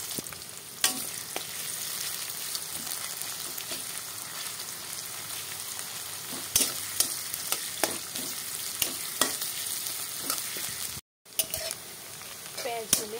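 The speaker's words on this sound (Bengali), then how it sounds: "এবার একটা কড়াই বসিয়ে দিলাম, দিয়ে তেল দিয়ে দিলাম। এর মধ্যে দিয়ে দিচ্ছি পেঁয়াজ," Onion and garlic fry in oil in a wok, a continuous sizzle punctuated by sharp spatula scrapes and clinks as the pan is stirred, with faint voices in the background.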